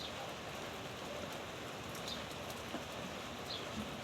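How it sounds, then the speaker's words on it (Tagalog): Steady rain pours down in a constant dense hiss, with occasional louder drops pattering on a nearby surface. "Kasi umuulan nga."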